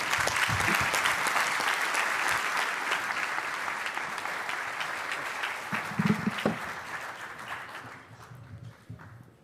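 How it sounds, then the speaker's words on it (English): Conference audience at the Land Forces Pacific symposium giving General Tsai a big round of applause, sustained dense clapping that gradually thins and fades out near the end. "Please give General Tsai a big round of applause."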